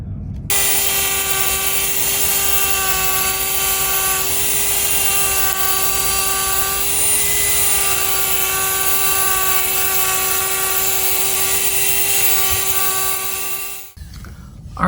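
A Dremel rotary tool sanding curb rash on a truck wheel at low RPM gives a steady, close, high-pitched whine that runs unbroken for most of the stretch and then cuts off near the end.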